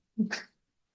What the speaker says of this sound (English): He literally sneezed inside of my mouth.